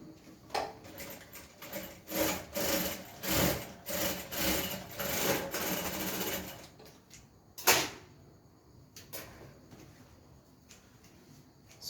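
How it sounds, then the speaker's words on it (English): A sewing machine stitches a fabric belt for a rope gown, running in several short bursts of mechanical whirring for about seven seconds, then stopping with a single sharp knock and scattered quiet handling noises. "So then I'll be sewing on 1/2 inch."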